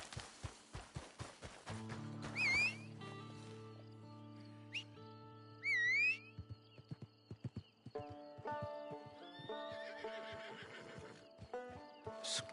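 Horse in the video game Red Dead Redemption 2 giving two loud whinnies amid a run of clip-clopping hooves, with game music tones and other sound effects behind.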